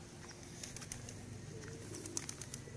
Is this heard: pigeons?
yes